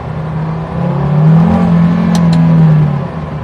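A KTM X-Bow GT-XR road-legal sports car engine, mounted right behind the driver, revs up steadily and holds a loud, rising drone before easing off, heard from inside the cockpit.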